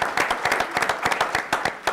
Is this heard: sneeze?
no